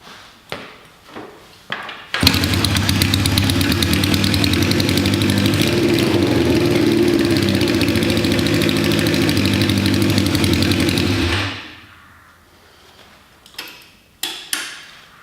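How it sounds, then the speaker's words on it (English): Engine of an Xtreme build turns over and fires, then idles steadily on all cylinders with a fast, even ticking rhythm, loud and close, before shutting off; a few clicks and knocks come before and after. "I'm happy with that just running on all cylinders, and I can tell that engine is fine"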